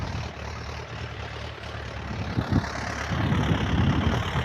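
A tractor engine running while working in a farm field gives a steady low rumble that holds close and constant, then grows a little louder and rougher toward the end.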